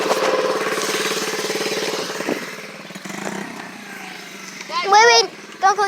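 A dirt bike engine idles with a steady, rapid putter up close, dropping away partway through while people talk nearby.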